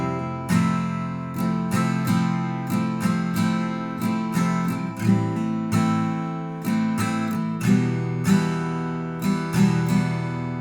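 Acoustic guitar strums the chorus of a song with hammer-ons, an even rhythm of downstrokes and upstrokes ringing close and clear, with no voices.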